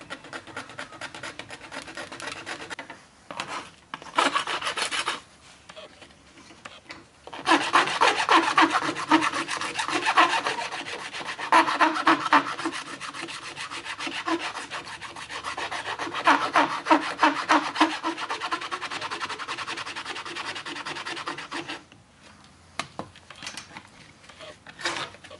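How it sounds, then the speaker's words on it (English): A hand file smoothing the cut end of PVC pipe, with loud, steady, close rasping strokes that run almost continuously and pause only briefly. "Then we'll come back with a file, smooth things out."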